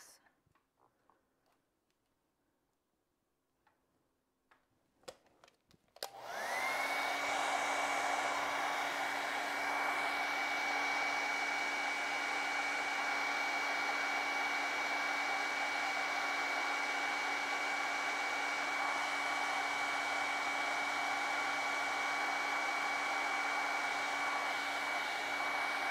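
A hair dryer switches on after a few seconds of quiet with light ticking and tapping, then blows steadily and loudly on acrylic paint with a constant whirring hum.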